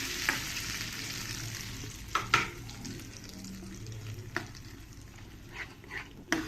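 Hot oil crackles and sizzles steadily with curry leaves tempering for chutney while a spoon clinks and scrapes against the pan now and then, close by with no talking.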